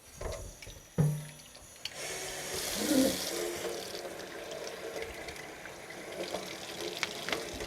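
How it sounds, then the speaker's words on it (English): Hot tap water runs over the outside of a bowl holding a frozen ice globe, a soft, steady trickle and splash after a sharp knock, fairly faint and close. "Next, you're going to run hot water on the outside of the bowl."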